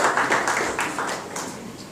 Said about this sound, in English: A truly huge round of applause for true testimonies of our center.